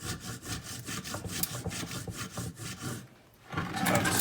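A serrated bread knife saws through a block of clear ice in quick, rhythmic back-and-forth strokes, close and fairly quiet, with a brief pause before the scraping resumes.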